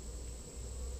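Low, steady buzzing of many honey bees at an open hive during inspection, close up, a continuous droning hum.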